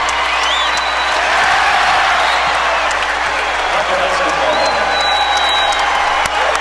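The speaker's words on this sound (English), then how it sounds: "That's worth a round of applause." Crowd at an exhibition basketball game on a rainy night applauds and cheers steadily after a made shot, a dense wash of clapping with commentators talking over it.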